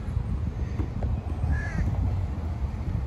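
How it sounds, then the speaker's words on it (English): A crow caws once outdoors near a shopping area, a short harsh call rising above steady low traffic rumble and wind, with no talking. "Look at that, another crow right there."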